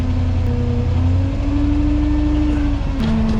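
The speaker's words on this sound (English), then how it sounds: "Turn up our idle down here with our throttle lock." Engine of a 1998 Chevrolet 3500HD rollback truck with PTO engaged, idle raised with a throttle lock, humming loudly and up close, rising smoothly in pitch, then dipping briefly before settling again.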